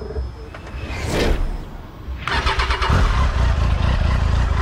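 A black Tiger motorcycle starts with a brief starter whir, then catches and settles into a close, steady idle with a throaty, even exhaust beat.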